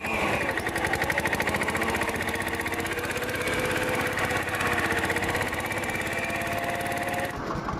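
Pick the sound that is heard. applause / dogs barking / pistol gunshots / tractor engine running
tractor engine running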